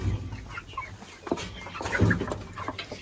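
Brahma crossbreed farm chickens cluck in scattered, moderately close bursts over a low rumbling background, with short irregular clucks spread across a few seconds.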